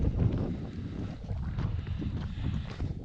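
Wind buffeting the microphone on the foggy rocky summit of Glyder Fach, a continuous loud rumbling roar with gusty surges and no voices.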